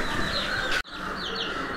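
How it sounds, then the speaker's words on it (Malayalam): Young poultry chicks on a farm cheep and peep in a dense, continuous chorus, fairly close, with no talking. "കാണാം, കോഴിക്കുട്ടികളെ."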